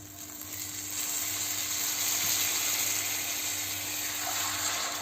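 Water goes into a pot of bulgur pilaf with mint, producing a steady close sizzle and hiss that rises after a quiet start and holds evenly over a faint constant hum, with no talking.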